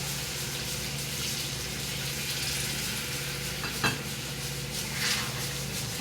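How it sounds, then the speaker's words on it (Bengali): Warm water hits a frying spice masala in a pan, giving a steady, fairly soft bubbling sizzle throughout with a brief clatter partway through. "আমি উষ্ণ গরম জল দিলাম।"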